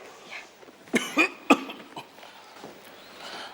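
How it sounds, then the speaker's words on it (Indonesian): A few sharp coughs in quick succession, fairly close, followed by quieter breathy noise and faint room sound. "saya lagi batuk"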